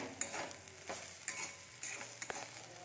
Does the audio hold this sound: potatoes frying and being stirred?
yes